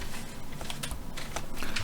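Keyboard shortcut keys tapped in quick succession during a DaVinci Resolve Fusion editing session, light clicky presses over a constant background hiss.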